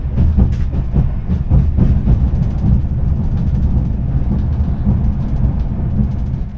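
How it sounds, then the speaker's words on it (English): Inside a Talgo train running on track shared with regular trains in Uzbekistan, a loud, continuous low rumble and rattle fills the carriage, with rhythmic clacks from the rails over the first seconds. "these trains really rattle a lot"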